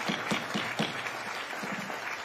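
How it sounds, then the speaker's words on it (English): Audience applause at a Puyallup city council meeting: a steady wash of many hands clapping throughout, moderately loud and fairly close, with individual sharper claps standing out in the crowd. "if we could keep the applause in between to a minimum"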